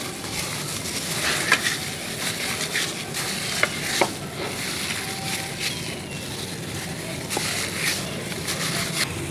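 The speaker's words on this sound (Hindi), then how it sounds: "बेसन ऐड करने के बाद इस सबको अच्छी से मिक्स कर लेंगे।" A besan mixture being stirred in a hot pan for beef mini kabab curry, with a continuous soft sizzle and occasional scraping ticks of the spoon against the pan.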